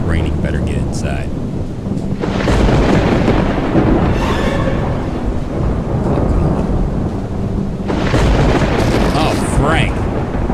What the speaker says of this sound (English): It's raining. Better get inside.